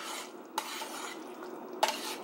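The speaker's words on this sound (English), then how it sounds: "And just going to give it another good stir." Cajun butter chicken is stirred in a pan, with a soft, low sizzle and two sharp clinks as the utensil scrapes and taps against the pan. The sounds are close, quiet and without talk.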